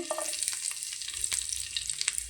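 Chopped garlic and chilli sizzle steadily in a hot pan while cooking rice, a continuous bright frying crackle with small pops, close and moderately loud, no voices.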